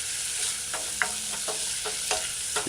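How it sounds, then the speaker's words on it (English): Shrimps stir-fried with sauteed seasonings in a saucepan used like a wok, a steady close sizzle with intermittent scraping and clinking of the utensil against the pan. "just stir fry the sauteed seasonings with the cooked shrimps"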